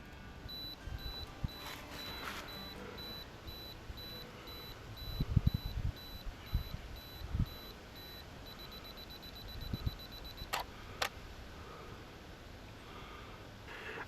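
A camera's ten-second self-timer beeps steadily and faintly in quiet woodland, a thin repeating tone that turns into a rapid double beep near the end, with small rustles and handling knocks underneath.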